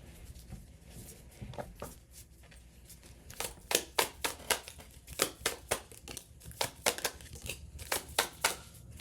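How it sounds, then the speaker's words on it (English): Tarot cards being shuffled by hand, a run of crisp riffling, slapping card snaps in quick irregular bursts, close and fairly quiet, with no talking. "I'll shuffle it back in."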